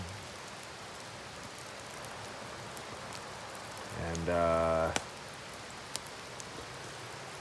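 Light rain falls steadily at night on a gold claim campsite in Washington, a soft continuous patter with a brief voice and a short louder burst of sound partway through.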